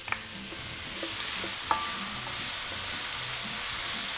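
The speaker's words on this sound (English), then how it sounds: "Add our shallots, we'll let these cook" Shallots cooking with guanciale in a pan for amatriciana, giving a steady soft sizzle throughout with a few light stirring clicks and scrapes near the start.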